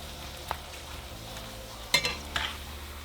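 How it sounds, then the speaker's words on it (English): Corn tortilla lightly frying in hot oil for enchiladas, a low steady sizzle with soft stirring, broken by a couple of sharper splashy crackles near the end; no one talks. "we're going to throw in the tortilla. And we're going to lightly fry it until you see the tortilla blister"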